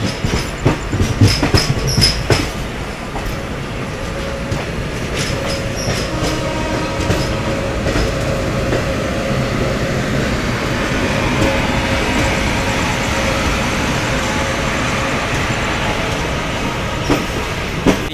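A Pinakini Express passenger train runs on rails between Vijayawada and Chennai, with a loud, steady rumble of wheels on track and rhythmic clickety-clack throughout, heard from on board with no talking.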